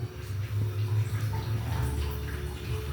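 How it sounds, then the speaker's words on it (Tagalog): Water running into a cooking pot to steam saba bananas, a steady splashing fill heard close up with low gurgling throughout and no talk. "Lagyan ng tubig at saka na i-steam sa ating apoy."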